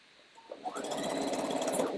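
A sewing machine backstitches fabric near the ending pin, starting after a brief pause and then running as a fast, even mechanical patter that continues steadily at moderate volume to the end, with no talking.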